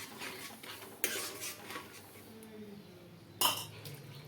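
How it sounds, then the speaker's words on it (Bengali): Yogurt being stirred into a cauliflower roast in a pan, with soft scraping of a spoon and two sharp metallic clinks against the pan over a faint background sizzle. "দিয়ে সব কিছুর সঙ্গে আমি ভালো করে মিশিয়ে রান্না করে নেব"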